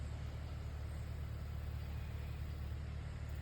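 A tractor engine runs steadily at close range while setting out to mow a wet pasture grazed down by goats, giving a continuous low, even drone with no breaks.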